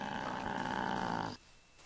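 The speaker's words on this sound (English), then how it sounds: "Shouldn't be growling at me." A wolf in the video game Minecraft growls in a steady, loud, rumbling run for just over a second, then cuts off abruptly into quiet.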